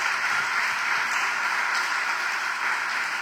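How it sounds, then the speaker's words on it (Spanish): A church congregation applauds the Lord during a sermon, steady dense clapping filling the room at an even level for several seconds with no voices on top. "Denle un aplauso al Señor"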